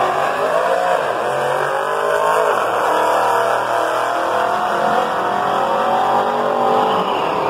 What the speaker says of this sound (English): That's the new Malibu. The cop car version.